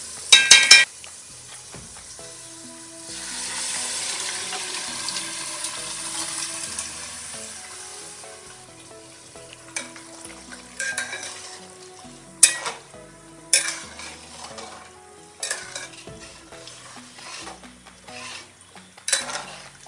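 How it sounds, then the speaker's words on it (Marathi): Cooked mutton stir-fried in oil-rich masala sizzles steadily in a pan, with scraping and clattering stirring strokes at intervals, close up and without talk. "आता आपण याच्यामध्ये शिजलेलं मटण टाकूया आणि चांगलं परतून घेऊया"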